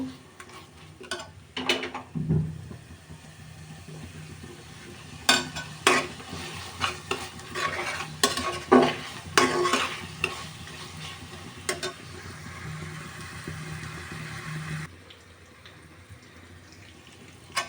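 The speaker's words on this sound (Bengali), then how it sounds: "এবার একদম সুন্দর করে মশলাটা কষাইতে হইবে ভালোভাবে। মশলাটা আমি এখন কষিয়ে নেব।" Spices with chilli powder and salt sautéed in a pan for Bangladeshi beef curry, a continuous sizzle broken by repeated spatula scrapes and clinks against the pot, loud and close, before quieting near the end.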